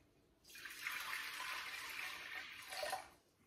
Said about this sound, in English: So we start off with putting all of the water into the big bowl.